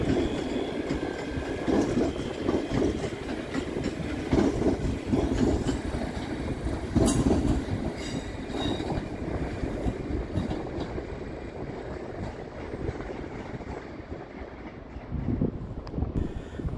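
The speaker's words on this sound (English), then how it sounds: "Next out to depart is 385109, departed with the 1520 ScotRail service to Dunblane." A ScotRail Class 385 electric train departing Edinburgh Waverley station, giving a loud, steady rumble and rolling wheel noise across the platform, with wind buffeting the microphone throughout.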